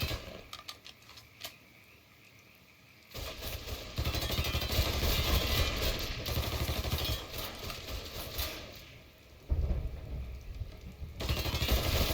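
Gunfire in the Mafia 3 video game, with bursts of dense rapid shots that swell into sustained loud firing and then break off briefly before resuming.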